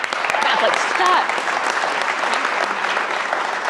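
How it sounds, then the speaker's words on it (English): Audience applause rings out at a health innovation pitch event, a dense sustained wash of clapping from a room full of people, strongest in the first second and then holding steady, with some voices mixed in. "big round of applause"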